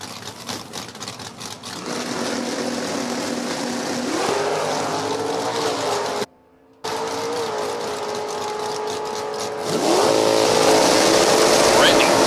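Drag race cars, including a 2008 Cobalt automatic powered by a 327 small block Chevy, rev and roar down a strip in sustained loud engine drones with rising pitch sweeps, broken by a brief dropout, with an announcer talking over them.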